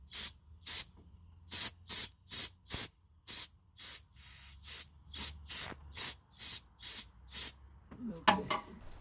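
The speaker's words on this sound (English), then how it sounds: "I'll just squirt it down with some brake cleaner" Brake cleaner sprayed from an aerosol can onto a car's AC compressor clutch area, about a dozen short sharp hissing bursts in an irregular rhythm with brief pauses, close and fairly loud.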